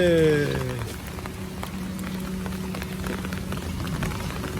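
Steady rain falls and patters on surfaces, a constant wash of drops that continues throughout, with a voice briefly heard near the start.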